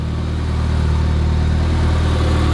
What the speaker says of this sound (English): This car sat for 20 years in a barn, and it still starts up perfectly fine.